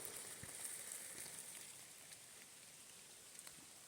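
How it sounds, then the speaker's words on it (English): Steady rain falls outdoors in a park, a soft continuous patter with a few scattered drops tapping close by, heard alone and fairly faint throughout. "it's raining."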